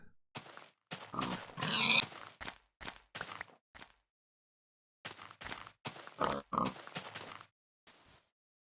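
Pigs in the Minecraft video game give a series of short oinks and grunts in two bursts separated by a silent gap, fairly quiet and with no voices over them.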